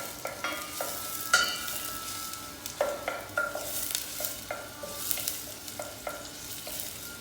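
Onions sizzle gently in a pan while a wooden spoon scrapes and knocks through them in an irregular rhythm of soft taps and strokes over a quiet, steady frying hiss.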